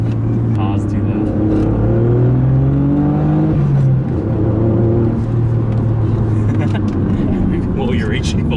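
A Mitsubishi Galant VR-4 accelerates hard, its engine note climbing steadily from inside the cabin, with people talking over the rising drone.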